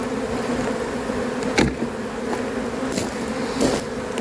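Bees from a caught swarm buzz steadily around a new hive, a continuous close insect drone with a few brief louder passes near the microphone.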